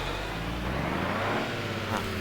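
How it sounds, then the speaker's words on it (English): A car engine in the driving game BeamNG.drive hums steadily with a mild rise in revs, fairly loud and continuous, with no talking. "Start the engine back up."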